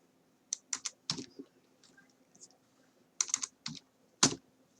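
Fingers type on a computer keyboard in short bursts of crisp clicking keystrokes, close and fairly quiet, with pauses between groups of keys.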